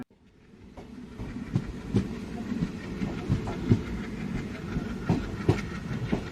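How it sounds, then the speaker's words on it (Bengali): A passenger train bound for Dhanbad runs steadily on its rails, a continuous low rumble with rhythmic clickety-clack wheel beats recurring through the run, no voices. "নিজ গতিতে ট্রেন ছুটে চলেছে ধানবাদের উদ্দেশ্যে"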